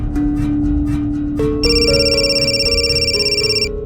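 A phone rings with an incoming call, a loud, steady electronic ringtone starting partway through over a bed of tense background music, with no talking.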